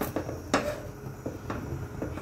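Whole raw green mangoes dropped one by one into a pressure cooker of water on the stove, giving a few distinct knocks and clunks against the metal pot at irregular intervals, with quieter kitchen rattles between.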